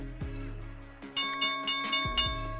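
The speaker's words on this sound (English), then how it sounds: "There's the opening bell here." A stock market opening bell rings during a live day-trading session, sounding as a loud series of repeated metallic strikes in a steady pulse over a sustained tonal background.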